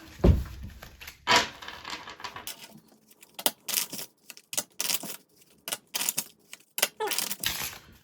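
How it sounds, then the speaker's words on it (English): A deck of playing cards being shuffled for a game of Gaps solitaire, heard as a few quick riffling bursts and soft card taps, close and crisp with short pauses between. "I'm gonna shuffle these up."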